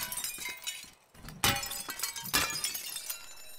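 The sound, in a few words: glass smashing in the video game Teardown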